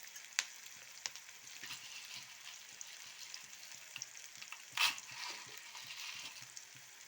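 Chillies, chana dal, cumin and coriander sautéing in a pan for Tamil onion chutney, a soft steady sizzle with occasional light scraping from stirring, fairly quiet and heard alone.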